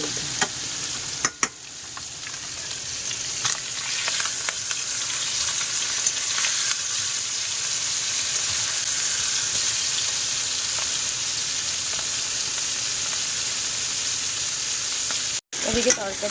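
Curry frying and sizzling in hot oil in a home kitchen, a steady dense hiss that holds at constant loudness for the whole stretch, with brief stirring clatters near the start and a short cut near the end.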